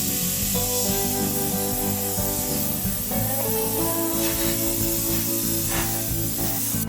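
Sandblasting gun spraying grit onto the frame rail of a 40-plus-year-old Peterbilt truck, a loud steady hissing blast that runs continuously over a low compressor drone, close up with no talking.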